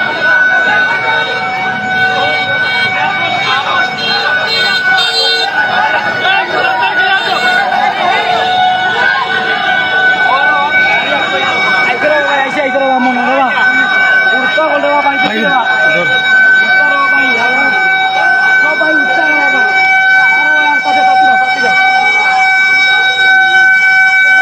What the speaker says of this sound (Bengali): ফায়ার সার্ভিসের গাড়ি এই মুহূর্তে আইছে।